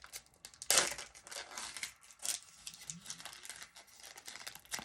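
A trading card pack is torn open up close, with crinkling and tearing foil bursts, one louder rip near the start, then softer rustles and handling.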